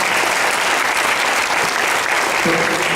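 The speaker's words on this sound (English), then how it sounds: "they both deserve a big round of applause" A crowd at a candidates' debate held at Temple Sinai applauds steadily and loudly, dense clapping filling the room for the full few seconds with no voices over it.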